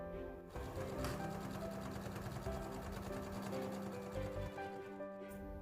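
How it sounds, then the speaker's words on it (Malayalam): An electric sewing machine runs steadily while stitching along the edge of fabric for a gift pouch, giving a continuous mechanical whir with a fine rapid needle rhythm, faint but close, with no talking. "ഇനി ഇതിൻ്റെ ഈ അരികിലൂടെ ഒന്ന് സ്റ്റിച്ച് ചെയ്ത് കൊടുക്കണം."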